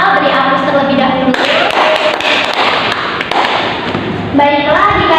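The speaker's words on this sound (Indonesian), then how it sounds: "Beri aplaus terlebih dahulu." Students in a classroom clap together, a burst of dense, close applause lasting a few seconds, framed by a teacher speaking before and after.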